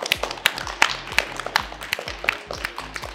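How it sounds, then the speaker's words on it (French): A small group of people claps after a children's robot dance game, about ten sharp, uneven hand claps spread across a few seconds, close and fairly light, with no talk. "On s'applaudit!"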